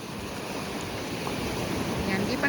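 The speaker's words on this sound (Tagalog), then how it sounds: "Medyo nakakatakot yung alon kasi ang lakas ng hampas niya" Ocean waves strike hard on the beach at Playa Nanín in Sanxenxo, Pontevedra, a continuous loud rushing surf with wind noise on the microphone, swelling slightly toward the end.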